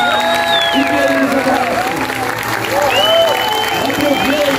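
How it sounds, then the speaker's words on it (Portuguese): Applause at a farewell ceremony, steady clapping filling the whole stretch with crowd voices and cheering mixed in, fairly loud and close throughout. "E ao Jesse, e ao Shurastei, vamos dar uma linda salva de palmas."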